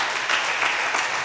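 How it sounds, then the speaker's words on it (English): Brief burst of audience clapping at a church sermon gathering, steady dense applause throughout. "Clap for her."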